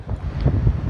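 Gusty wind buffets the microphone on a Florida beach as Hurricane Michael brings wind and rain, a steady low roar swelling in short surges for under a second, with no voices.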